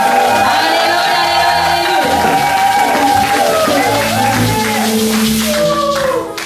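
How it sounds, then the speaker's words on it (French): A church congregation at a Christmas 2019 service cheers loudly, a dense and continuous roar of shouts and whoops with layered tones running throughout. "Lorsqu'elle s'approche, nous acclamons très fort pour le Seigneur"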